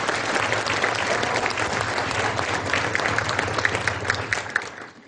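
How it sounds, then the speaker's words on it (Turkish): An audience applauds the President, a thick, continuous clatter of many hands clapping that grows slightly more uneven toward the end before fading out. "Sayın Cumhurbaşkanımıza bir alkış sizlerden rica ediyoruz."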